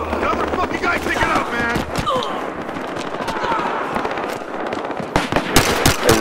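Shotgun blasts and other gunfire in a Battlefield Hardline multiplayer match on Xbox One, several loud sharp bangs scattered through a dense mix of game noise, with a cluster of heavy shots near the end.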